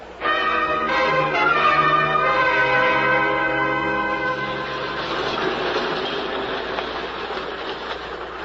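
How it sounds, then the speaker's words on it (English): A subway train at a station platform in a radio drama gives a loud, close screech of ringing metallic tones that fades into a steady rolling rumble of the cars, with no voices. "On the subway platform"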